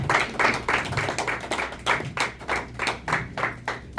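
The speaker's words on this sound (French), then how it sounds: "Est-ce que nous pouvons encore acclamer pour le Seigneur?" A congregation at an evening church service claps in a steady, rhythmic beat of about two claps per second, loud and close, with no voices over it.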